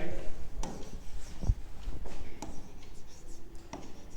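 A pen scratches across paper while notes are written by hand, producing short scratchy strokes and taps in an irregular rhythm, close and fairly clear, with faint voice sounds in the background.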